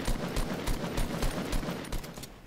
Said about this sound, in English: Oh shit, they're shooting at us.